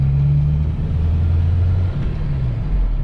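A Chevrolet Opala Diplomata's engine gives a deep, steady low rumble from inside the car as it drives, smooth and continuous with no voices over it.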